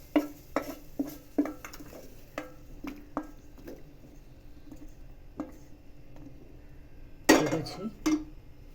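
A spoon stirs mawa in a pan, making repeated scraping clinks in an irregular rhythm, close and fairly loud, with a sharper clatter of metal near the end.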